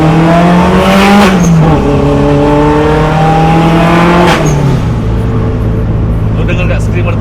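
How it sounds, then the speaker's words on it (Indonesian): A 1992 Daihatsu Zebra Turbo S89 with a small turbo revs loudly up close, its engine climbing in pitch twice with a whining turbo whistle between gear changes, and voices partly audible beneath the noise. "Lu denger nggak screamer turbonya? Padahal turbo kecil begini loh."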